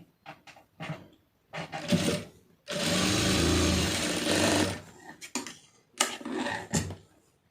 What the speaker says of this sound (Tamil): அதனால இதில் வந்து ரெண்டு தையல் போட்டுருங்க